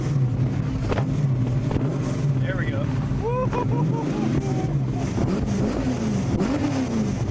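A classic car with a 427 engine fires up and runs with a steady, loud, low rumble throughout, with some throttle swells, while people talk over it nearby.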